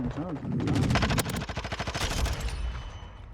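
Rapid bursts of automatic gunfire from a Call of Duty match crackle in quick repeated volleys, loud and dense, with a voice talking over part of the shooting.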